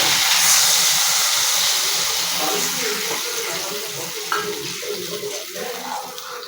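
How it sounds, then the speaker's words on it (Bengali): Tamarind water poured into a pan of fish curry, a steady rushing hiss and splash that is loudest at first and eases slightly as it continues, close and alone. "এবার তেঁতুল গোলা জলটা দিয়ে দেবে"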